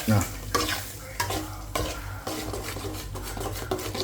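Egg being stirred and fried in a pan, with a utensil scraping and clattering against the metal in repeated strokes over a steady close sizzle, and no voices.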